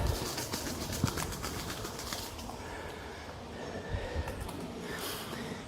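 A wood pigeon in damp, mossy woodland beside a stream, cooing and flapping among the trees, with soft rustling and wingbeats heard near over a constant outdoor hiss.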